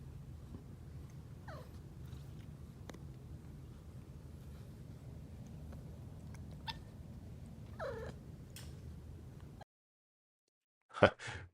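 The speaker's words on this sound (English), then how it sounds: "I got a little bit of kitten cuteness in the bonus Cheech and Chong clip for today over here." Two kittens named Cheech and Chong make soft cat sounds, faint quiet mews and light rustling indoors, then a brief sharper squeak near the end after a short silence.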